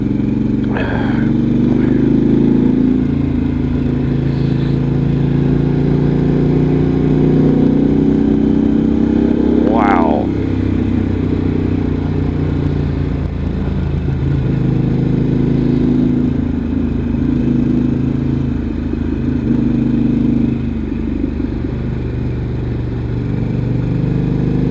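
A Moonshier 28 motorcycle is ridden through corners at night. Its engine hums as a steady loud drone with shifting pitch as the throttle is eased on and off, and a brief clack comes near the middle.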